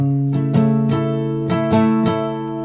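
An acoustic guitar strummed in a steady down-up pattern, six crisp strokes over a ringing chord, played close by with no talking.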